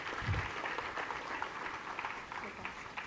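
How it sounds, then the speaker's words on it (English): An audience at a university foundation day celebration gives a round of applause: continuous crowd clapping with scattered sharper claps, steady and moderately loud throughout, with a murmur of voices mixed faintly underneath. "Big round of applause."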